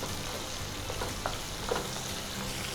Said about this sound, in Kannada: ಕಡಲೆಬೇಳೆ, ನೆಲಕಡಲೆ ಅದೆಲ್ಲ ಸ್ವಲ್ಪ ಫ್ರೈ ಆಗಬೇಕು, ಆನಿಯನ್, ಆವಾಗಲೇ ಟೇಸ್ಟ್ ಇರೋದು.